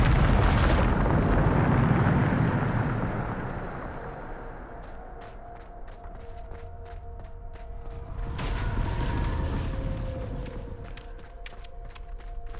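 Bombarda spell blast in Hogwarts Legacy: a heavy booming explosion at the start rumbling loudly for several seconds, then fading into crackling debris, clicks and a second rumbling swell.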